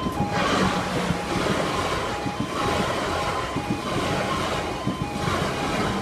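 A train of class 444 units bound for Weymouth rushes past a rural Dorset level crossing, a steady loud roar of wheels and rushing air with a faint crossing alarm tone throughout, no voices.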